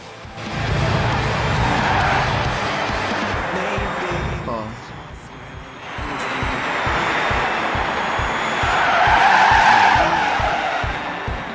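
Race cars in Gran Turismo 6 roar and skid, tires squealing in long bursts under a rumbling engine, while someone talks over the action.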